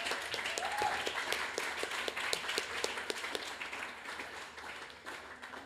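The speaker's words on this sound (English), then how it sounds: "give a huge round of applause as a signal that we're going" An audience at a fiction session with two authors applauding, a dense sustained round of clapping that gradually thins and fades out.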